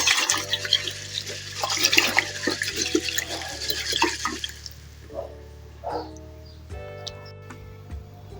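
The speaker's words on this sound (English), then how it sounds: "We're gonna rinse the lentils first." Lentils rinsed under running water in a kitchen, a steady hiss of flowing water with clinks and splashes, fading partway through, while a low hum and soft tapping continue beneath.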